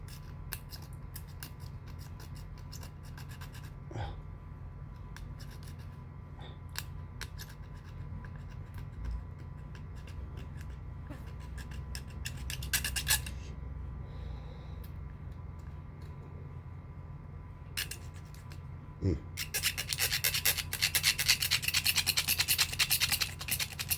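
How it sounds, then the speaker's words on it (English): Cutting tool scrapes and saws through rawhide lashing bound on a spear, faint close rasping and scratching strokes in bursts, intensifying into a busier scraping run at the end. "I'm not going to try to untie that because that's rawhide, so I'm just going to cut it."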